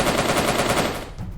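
Soviet soldiers fire in a video game: a loud, rapid burst of machine-gun fire rattles in fast, even succession for just over a second.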